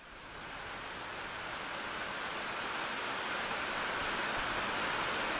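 Steady, dense video game rainfall hissing evenly, gradually swelling slightly louder, with no voices.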